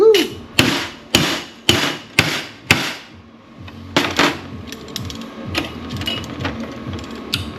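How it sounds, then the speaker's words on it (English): Hammer blows striking a MIG weld bead to flatten it, about seven sharp metallic hits in a steady rhythm, close and loud, followed by lighter scattered taps and clinks. "If you hit on the weld, Yeah. to flatten it out."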